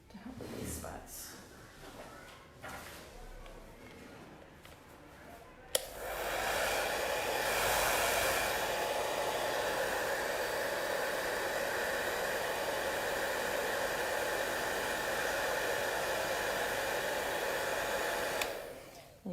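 A hair dryer switches on partway through and blows a steady, loud rushing whine over a watercolor painting, running continuously until it shuts off just before the end; quieter handling noises come before it.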